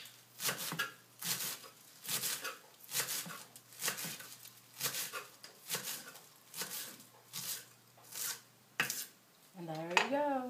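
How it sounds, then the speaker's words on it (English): A knife slices folded greens on a cutting board for miso soup, giving a steady series of crisp chopping strokes roughly every half second, close and clear, with a brief rising tone near the end. "Just take the greens, fold it in half, and then cut it into little"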